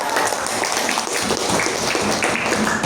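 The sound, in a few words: audience applause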